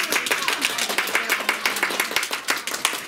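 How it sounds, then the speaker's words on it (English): A first grade class applauds in a classroom, with a burst of many small hands clapping in quick, irregular rhythm. The clapping is fairly close and continues steadily for a few seconds with no talk over it. "Give Chandler a round of applause."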